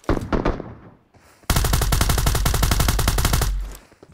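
Rapid automatic gunfire from PUBG Mobile, with an S686 shotgun and Honey Badger rifle in use: a brief burst early, a pause, then a loud, dense, steady stream of shots for about two seconds before cutting off.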